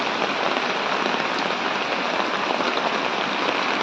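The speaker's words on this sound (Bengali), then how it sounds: "দেখো সকাল সকাল কিভাবে বৃষ্টি হচ্ছে এখানে" Heavy morning rain pouring steadily in a dense, continuous hiss of drops striking surfaces close by, loud and unbroken throughout.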